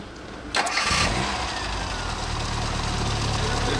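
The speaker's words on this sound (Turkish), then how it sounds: "Marşa bas." A car engine cranks briefly on the starter and catches, settling into a steady idle, recorded close by in an industrial repair-shop area.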